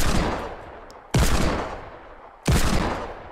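Three loud, sharp gunshots ring out in a Fortnite battle, each followed by a decaying echo, spaced roughly a second apart, with no talk.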